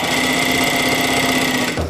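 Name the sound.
sewing machine stitching binding tape on a dress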